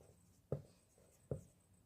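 A formula is written out by hand in two quick, faint scratchy strokes about a second apart in a quiet room.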